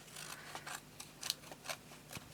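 Scissors trim card for a Peter Rabbit fold card in a card-making kit, making a series of faint, close snips in an uneven rhythm with soft rustles between them.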